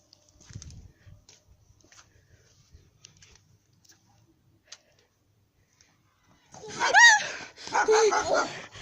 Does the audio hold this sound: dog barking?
yes